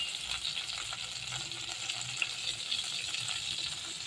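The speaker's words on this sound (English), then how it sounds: "Slightly fry it." Cumin seeds, bay leaves and dry chili sizzle in oil already used for frying fish, a steady, close hiss that runs continuously without talk.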